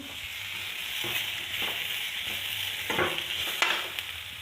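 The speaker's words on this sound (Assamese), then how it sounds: "মই এতিয়া কৰিলোঁ আৰু মটৰ ভাজি আছোঁ।" Peas fry in a pan with a steady, close sizzle, and scrapes of stirring come through every second or so.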